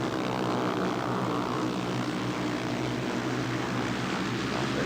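Speedway motorcycles at Cradley Heath in 1979 race past a low trackside camera, a loud, continuous engine roar that fills the whole stretch with no break.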